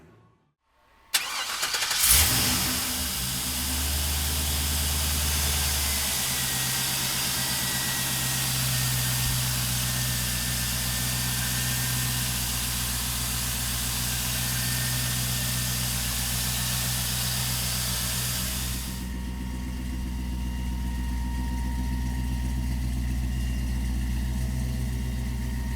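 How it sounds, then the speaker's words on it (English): A 1955 Chevrolet Bel Air engine cranks and catches after a brief silence, then revs and settles into a steady, loud, close idle for over twenty seconds, with no talking. "We'll fire it up for you right now."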